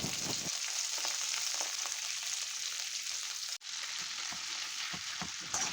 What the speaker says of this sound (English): Saute on high heat for 2 minutes